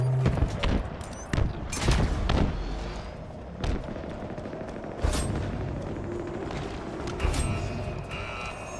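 Pistol gunfire in a video game cracks out as several loud, sharp shots spread irregularly through the clip over a busy game soundscape, with no speech.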